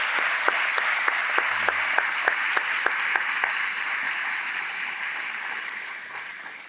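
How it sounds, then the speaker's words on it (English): A graduation ceremony audience applauds in a broad, continuous roar of clapping, with a few sharper individual claps standing out early and the sound easing slightly toward the end. "Let's give them a round of applause as well."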